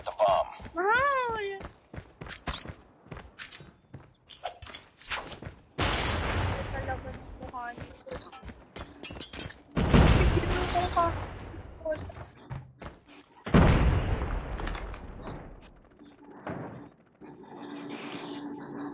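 First-person shooter gameplay with scattered gunshots and sharp bursts of fire, some heavy booms rising above the rest, mixed with footsteps and game sounds while players talk throughout.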